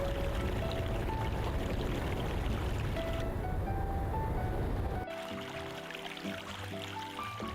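Steady rushing water pours and splashes off turning wheels in a video game, continuous, loud and close, then drops to a quieter, thinner flow for the last couple of seconds.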